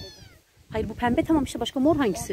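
A cat meows close by at a person's feet in a village garden during a harvest, a short clear meow at the start, then people talk over the scene.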